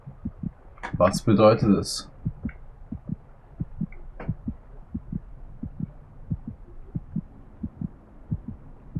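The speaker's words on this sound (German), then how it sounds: "Was mir schon am Ende der letzten Folge aufgefallen ist, das Herzklopfen." Steady heartbeat throbbing in Assassin's Creed Origins, low regular thumps repeating through the whole stretch, with a short burst of speech near the start.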